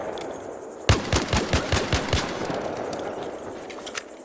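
Automatic weapon fired at training dummies in ARC Raiders, a rapid burst of about eight sharp, evenly spaced shots, loud and close, then a quiet room tone tail.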